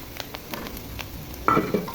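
Green chillies frying in a pan with onion, turmeric and salt for a bottle gourd and lentil dish, a soft steady sizzle with light stirring taps, then a sharper louder burst of frying near the end.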